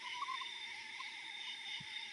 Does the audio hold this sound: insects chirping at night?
yes